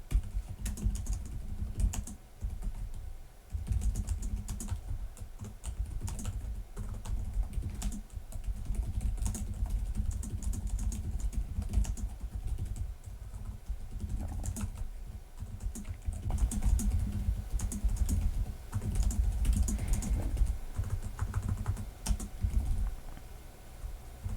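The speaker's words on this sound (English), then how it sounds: "it's a quieter keyboard" Fingers type on the keyboard of an MSI Vector 16 HX gaming laptop, a quick, fairly quiet run of soft snappy key clicks with brief pauses, close up and without talking, lasting over twenty seconds.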